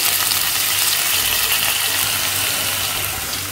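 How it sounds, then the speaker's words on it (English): A teaspoon each of ginger and garlic sautéing in hot oil gives a loud, continuous, close sizzle with a broad hiss that fades slightly toward the end, with no talking. "Saute 1 teaspoon each of ginger and garlic."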